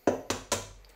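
A raw egg is cracked and added to a plum cake dough of butter, with three quick close taps and knocks against a hard edge, each dying away fast.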